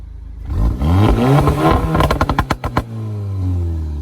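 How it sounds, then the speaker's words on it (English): Engine of a tuned car at a street gathering revs hard, a sustained loud roar climbing and dropping, then a burst of quick throttle blips before settling to idle, close with no talk. "One more rev."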